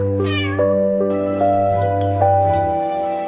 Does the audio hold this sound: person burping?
no